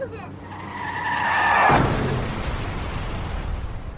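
A car skids with a rising tire squeal that ends in a sudden crashing impact, used as a sound effect in a child car-seat safety ad, loud and close, followed by a lingering noisy rumble.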